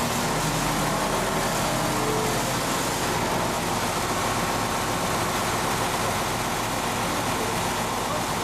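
An engine idles at about 800-900 RPM on a speed control setup, a steady, loud, unchanging drone with a low rumble and broad mechanical hiss.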